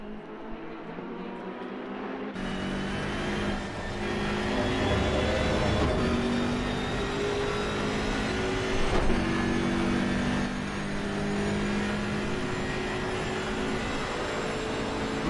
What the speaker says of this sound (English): gets back on the gas, and a very low grunt to the BMW GT3 as well